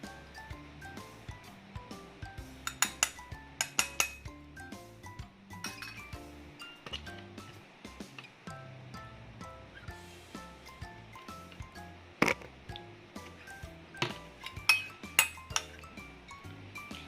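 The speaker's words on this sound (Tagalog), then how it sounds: "we have to mix a little amount of ketchup and mayonnaise together in a small container" A utensil stirring ketchup and mayonnaise together in a small container gives faint, scattered clinks and taps against the sides, irregular and quiet, with a few sharper knocks.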